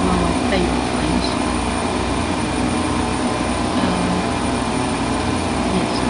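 Boeing 747 airliner engines in the Flight Simulator 2004 game, a steady, loud, unbroken broadband roar holding level throughout with no talk over it.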